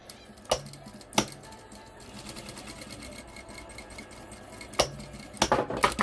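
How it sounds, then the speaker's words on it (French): A sewing machine stitches small pleats on a mesh laundry bag, a fast close rattling run of needle strokes between a few sharp clacks at start and finish, with faint talk under it. "on va maintenir ces petits plis à la machine"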